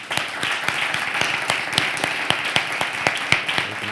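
Sustained applause from a crowd at a DIRSE and Fundación ONCE event, dense steady clapping filling the room at a loud, even level throughout.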